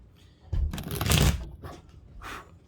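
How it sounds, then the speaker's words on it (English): Tarot cards are shuffled in a single close, brisk riffle lasting about a second, followed by a softer second rustle as the deck settles. "one more shuffle for Cancer's current person"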